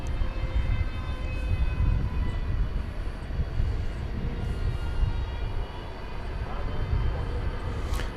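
A plane at DFW Airport at night, giving a steady low engine rumble with a faint whine that holds evenly throughout at moderate distance.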